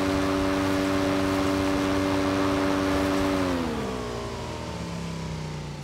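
A motorcycle engine in the video game PUBG (Battlegrounds) holds a steady, loud droning tone, then its pitch sinks as the engine eases off and settles into a lower hum, with no voices.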